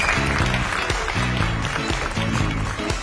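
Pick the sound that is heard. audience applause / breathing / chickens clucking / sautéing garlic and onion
audience applause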